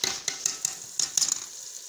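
Spice masala with turmeric, salt and cumin for fish curry frying in a pan, light sizzle broken by several sharp scraping stirs and taps of a spoon, close and fairly loud.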